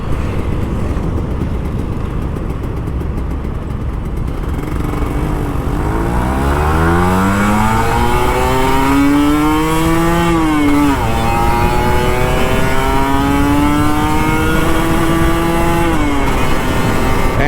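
A Kawasaki Ninja RR two-stroke motorcycle with an open cap revs hard on open throttle, engine pitch sweeping up and down in loud rising and falling surges, close and with no talk over it.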